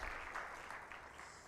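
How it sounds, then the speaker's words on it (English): Audience applause at a 2022 business summit welcoming a speaker to the stage, a steady wash of clapping that stays even and fairly loud through the moment with no voices on top. "Give him a big applause."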